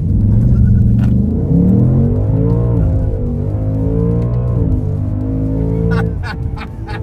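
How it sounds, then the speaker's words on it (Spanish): A V8 car accelerating at full throttle from standstill to 100 km/h, a loud, close engine roar climbing steadily through the revs with a gear change, then brief sharp clicks near the end. "vamos a acelerar a fondo, a ver cuánto se demora de 0 a 100"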